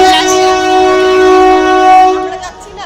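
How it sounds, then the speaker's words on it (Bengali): A loud, sustained train horn blares close by for a couple of seconds as a train arrives at the station, then cuts off into background station noise. "এখন আমাদের ট্রেন চলে এসেছে"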